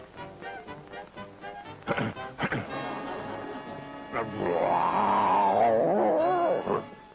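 A human voice imitates a lion's roar, a long rising and falling growl that fills the second half of the scene in a 1970s TV sitcom, after a few earlier thumps and voices.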